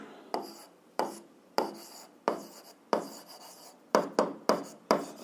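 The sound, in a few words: writing the solution down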